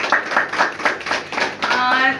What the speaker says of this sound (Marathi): आपण सगळेजण पहिले नांदेडकर सरांसाठी टाळ्या वाजवू.